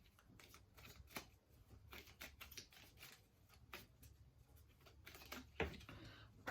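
Tarot cards shuffled by hand with quick riffling bursts and soft card flicks, a few cards slipping out near the end, close but quiet, no talking.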